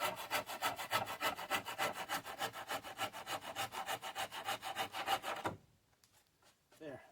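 Rhythmic rasping strokes shave the edges of wooden log gatehouse doors to an angle, about twenty quick, even back-and-forth passes close up, stopping abruptly and followed by a brief pause and faint handling noise.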